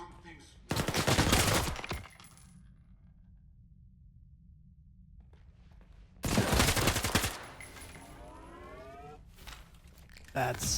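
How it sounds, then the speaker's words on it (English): Two bursts of rapid, loud Gauss rifle fire in S.T.A.L.K.E.R. 2, each lasting about a second with a crackling electric tail, separated by a quiet stretch of low hum, with a short third burst at the end. "That's a Gauss rifle."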